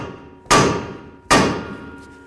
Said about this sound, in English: we're going to use our bonking device slash hammer. We're going to hit right here on the knuckle